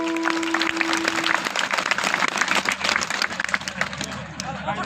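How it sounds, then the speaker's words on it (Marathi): An audience claps at a kirtan, a devotional Marathi discourse. Dense, continuous hand-clapping fills the space, with a voice and crowd murmur mixed underneath. "म्हणून टाळी वाजवली पाहिजे."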